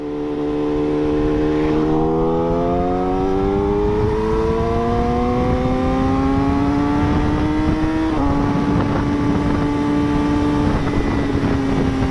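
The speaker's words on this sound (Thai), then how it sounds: "โอ้ลั่นอยู่ เวลา ยกคันเร่ง มัน มันยิงอยู่ นะ ป๊อกป๊อกแป๊กนิดเดียว" Yamaha YZF-R6 sport bike with a new aftermarket exhaust, riding as the engine note climbs smoothly through the revs, drops at a gear change and pulls up again, a loud continuous drone heard close up with no talking.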